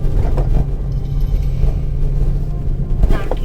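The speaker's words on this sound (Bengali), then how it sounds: "ফার্স্ট গিয়ার ছাড়া উঠছে না।" A car grinds up a steep, rough mountain road in first gear, its engine a steady loud low rumble with no pauses, close by throughout.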